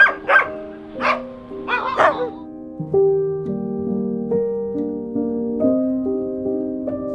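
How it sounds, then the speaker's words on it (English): Dogs in frigid Yakutsk, Siberia bark in a few sharp bursts early on, then fall quiet while a sustained melodic tone holds underneath; no one speaks. "As you can see, there are some dogs here."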